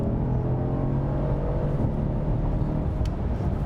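A 2018 Mercedes-AMG C-Class (C 43 or C 63 S) engine pulls hard under acceleration, a loud, steady low rumble and whir that holds throughout without talk.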